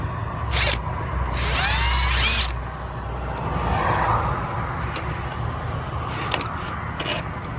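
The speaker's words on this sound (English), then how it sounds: "Now you gotta unbolt this, and it should come right out." A power tool whirs in bursts while unbolting a part to remove the battery from a 2021 Infiniti Q50, a loud spin near the start, then quieter ratcheting and clicks, with no voices.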